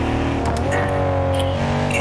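Loud BMW G81 engine in BeamNG.drive on an LA canyon road with traffic, a steady high revving drone with shifting pitch close up, alone without speech.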